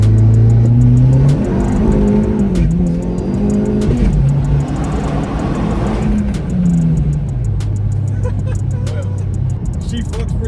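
A Dodge Caliber SRT-4 pulls in second gear with a loud engine drone that rises and steps in pitch, recorded inside the car while occupants talk over it.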